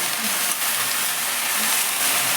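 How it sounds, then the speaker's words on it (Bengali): Spinach goes into a pan of frying vegetables for a Bengali palak and small-shrimp dish, giving a steady, close, continuous sizzle and hiss of cooking with no talking. "আনাজগুলো ভাজা হয়ে গেছে এবার পালং শাকগুলো দিয়ে দিলাম"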